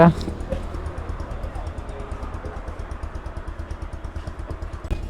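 A Bajaj Pulsar motorcycle engine with dual-disc ABS runs steadily at close range with a low, rumbling idle, mechanical clatter throughout and a voice faintly in the background.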